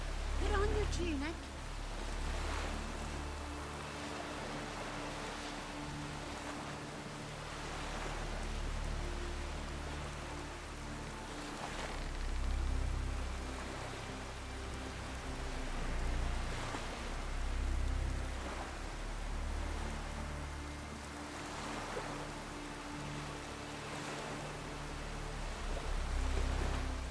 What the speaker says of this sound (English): It's raining. Put on your tunic.